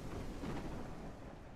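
Heavy rain with low thunder rumble in the Ranch Simulator video game, a steady loud wash of downpour with deep rolling thunder throughout, no talking.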